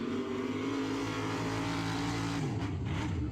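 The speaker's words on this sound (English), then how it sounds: "You can really hear that power in that Uproar tough truck." Tough truck engine roaring loud and steady on a dirt track at a county fair monster truck event, a sustained revving drone with shifting pitch as the truck swings through a wide turn.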